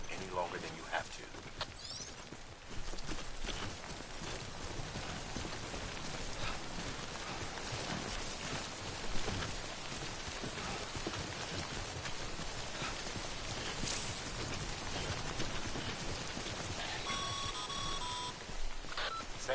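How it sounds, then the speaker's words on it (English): Steady rain, the timefall of the video game Death Stranding, hisses continuously throughout, mixed with game footsteps and occasional electronic beeps. "Don't stay out in the rain any longer than you have to."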